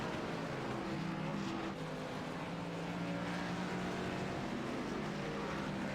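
Race cars circling the Charlotte Roval, a continuous droning engine roar with a steady hum and slow swells, no voices.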